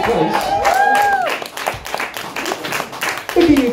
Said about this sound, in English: Look at you clapping, you're like taking credit.